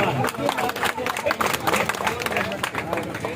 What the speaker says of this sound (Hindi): इनके लिए तालियां बजाओ एक बार।